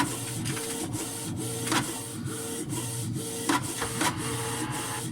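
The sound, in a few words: printer feeding out a sheet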